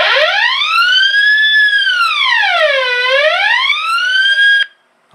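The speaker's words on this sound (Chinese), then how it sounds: "好，这个是警报器第一个" A custom-built alarm siren, set off by a micro switch, wails in a loud rising and falling sweep, close by and alone, for several seconds before it cuts off abruptly.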